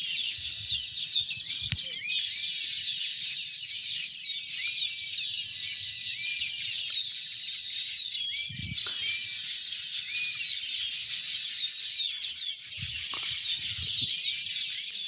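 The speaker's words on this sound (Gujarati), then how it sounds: "નકરો અવાજ જ આવે સમજો કેટલો બધો બોલે છે નકરા ચકલા" A crowd of sparrows chirping loudly and without pause around a house, a dense shrill chatter of overlapping calls, with a few brief low thumps beneath.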